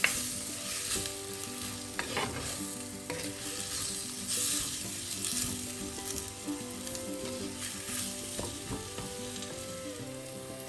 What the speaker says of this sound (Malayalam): ഈ സമയം നമുക്ക് ഒരു ചെറിയ തക്കാളി അരിഞ്ഞിട്ട് അതും കൂടി ഇതേപോലെ പെട്ടെന്ന് വഴറ്റാം.